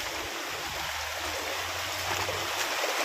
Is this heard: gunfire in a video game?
no